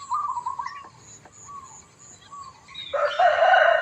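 A rooster crows in the morning near a temple in Lampang after overnight rain, a clear nearby cock-a-doodle-doo call rising at the end over soft bird chirps, with no talking.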